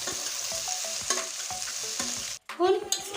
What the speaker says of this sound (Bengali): এই দেখুন মশলা মাখানো সোয়াবিনগুলো এখন আমি তেলের ভিতরে ছেড়ে দিচ্ছি আমি সুন্দর করে এখন ভেজে নেব লাল করে